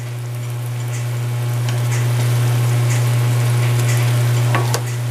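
Shrimp cooking in a pan for spicy camarones a la diabla, a continuous close sizzle over a loud steady low hum, with a few faint clicks of stirring.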